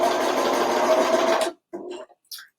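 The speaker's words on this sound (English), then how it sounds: "So we're going to stitch the shoulder." A sewing machine stitches a T-shirt shoulder seam in a close, steady run of about a second and a half, then stops, followed by a few faint handling noises.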